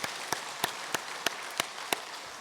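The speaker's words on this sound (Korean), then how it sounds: "이재율 성도님, 이 앞에 앉아 계시는데 박수로 환영하도록 하겠습니다." A church congregation at a Sunday service welcomes a newly registered member with clapping, heard as about seven sharp, evenly spaced claps ringing out over a quiet room.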